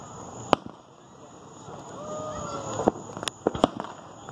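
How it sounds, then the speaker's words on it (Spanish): Fireworks explode at a July 4th celebration at Patriots Point in scattered sharp bangs and pops at a distance, with a faint whistling rise in between. "¿Estás viendo los pinches cohetes?"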